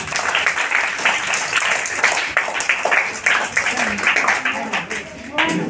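Crowd applause at a Bail Pola festival celebration, many hands clapping in a steady, loud patter. A voice speaks over and between the clapping.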